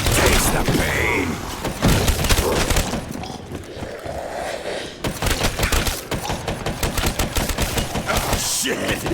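Dense, loud bursts of automatic and single-shot gunfire in Black Ops 3 Zombies on the Shi No Numa map, heavy thumps mixed in, with a game character's voice talking over the shooting.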